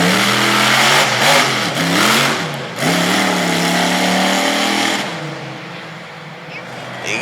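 A monster truck engine revs hard and continuously on a dirt competition track, its pitch rising and falling through repeated throttle bursts, loud and close before easing to a lower steady drone near the end.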